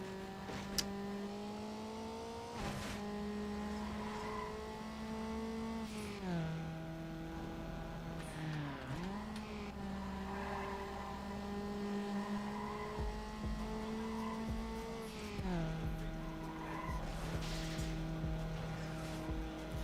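Car engine in a racing video game on a wet track, a steady droning whine that dips and rises in pitch with gear changes and cornering, with faint tire noise, continuous and fairly loud throughout.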